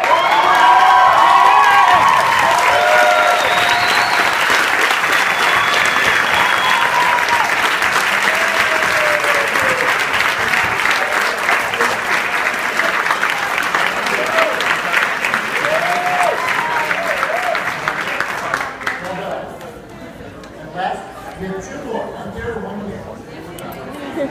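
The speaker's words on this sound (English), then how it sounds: "I would like to invite everyone to give you a standing round of applause." A large audience at a student leaders event gives a standing ovation, loud dense clapping mixed with cheers, whoops and chatter for about eighteen seconds before fading quickly into scattered voices and murmur.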